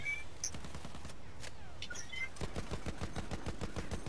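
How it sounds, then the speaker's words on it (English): In the video game Battlefield 1, a tank fires at players amid rapid distant gunfire and a burst of heavier shots toward the end, set against a low background rumble. "There's a tank shooting at us."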